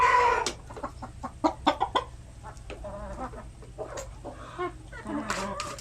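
Breeder hens and roosters of a farm flock cluck in a busy chorus of short, overlapping calls at close range, some louder bursts standing out, with no talk.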